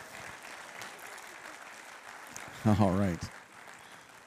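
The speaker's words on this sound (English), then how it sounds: "Let's give him a big round of applause here." A church congregation applauds steadily as broadband clapping throughout, with someone briefly speaking over it near the end.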